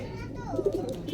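Several pigeons at a home loft coo in low, throaty, repeated calls, close by, over a steady background hum with faint voices mixed in.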